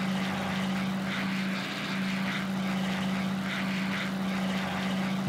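Cockpit-style drone of a P-40F Warhawk propeller fighter in flight over the Scottish Highlands in Flight Sim World, a steady unbroken engine hum with a strong low tone and a faint wavering rasp on top, loud and constant throughout.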